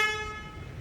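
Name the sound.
Hyundai Kona Electric car horn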